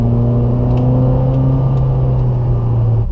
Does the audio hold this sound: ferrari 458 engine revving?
yes